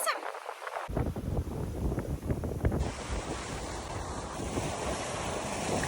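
A sailboat under jib and mizzen on a broad reach in roughly 17 knots of wind and whitecapped seas, with steady wind roar and rushing, splashing water continuing throughout, loud and close.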